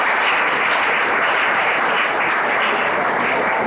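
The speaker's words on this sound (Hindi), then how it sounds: "तो इसलिए अपने लिए भी तालियां बजाओ" Students at an intercollege gathering applaud themselves in a thick, continuous roar of clapping that fills the room, steady and loud from start to finish with no speech on top.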